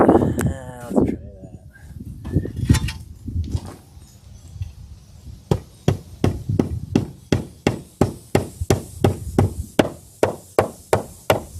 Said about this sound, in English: try sandwiching this thing in there and just hammering on it